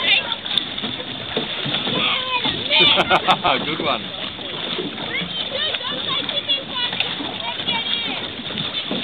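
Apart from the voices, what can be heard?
water splashing during a water fight from sailing dinghies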